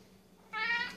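A house cat gives one brief, close meow lasting about half a second, clear and alone against a quiet room.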